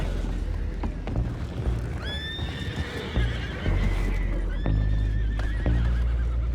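Horses neighing and whinnying in Red Dead Redemption 2, two loud shrill whinnies rising over clopping hooves and background clatter and thuds, close by with no talk.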